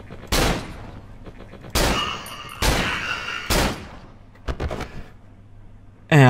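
Gunshots in the horror video game Cry of Fear: several sharp, loud single shots spaced about a second apart, then a quieter burst, with a faint click at the end and no talking.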